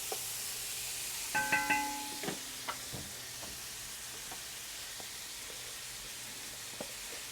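Onions sizzle in a pot as the base for a pot roast, a soft steady frying hiss with a few clinks and stirring knocks near the start, then quieter sizzling alone.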